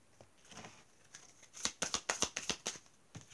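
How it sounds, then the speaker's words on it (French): Tarot cards being drawn and handled during a card reading make a quick run of crisp slaps and riffling snaps at close range, faint overall, clustered in the middle with a few softer rustles before and after. "Ça, je vais continuer à tirer les cartes."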